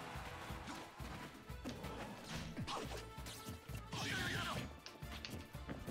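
Busy melee from a Super Smash Bros. Ultimate match with Shulk, dense with smacks, whooshes and crashing hits; a down smash attack lands among repeated impacts over game music, with faint talk in the mix.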